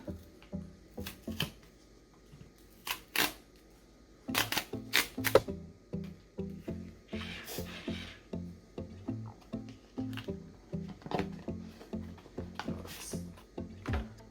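Apple Card packaging being opened by hand, with a run of crisp paper rustles, taps and sliding card-stock scrapes close up, irregular bursts and brief pauses, no talking.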